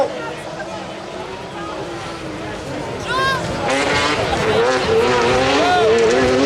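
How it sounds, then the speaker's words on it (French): Peugeot 208 Maxi Tourisme race cars in a French championship final at Saint-Georges, engines whining and rising as they pass close by, building louder toward the end under steady crowd and commentary noise. "les 208 qui mènent la vie dure à Julien Esnard cette saison"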